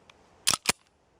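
A Kel Tec PF9 pistol trigger dry-fires with a crisp two-part mechanical click, close and small, followed by a second snap of the reset, alone in a quiet room.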